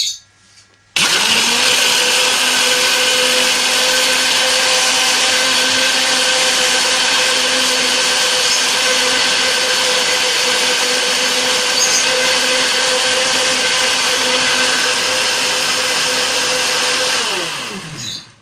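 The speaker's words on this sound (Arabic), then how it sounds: "واخلطهم كويس جدا في الخلاط" A blender mixing sugar and vanilla for crème caramel whirs loudly and steadily for several seconds, a high motor whine with grinding underneath, starting abruptly and winding down at the end.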